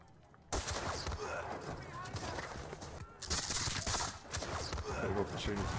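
Volleys of musket fire crackle through a Napoleonic battle at Borodino in a strategy war game, dense overlapping shots mixed with hoofbeats, coming in two loud bursts separated by a brief lull.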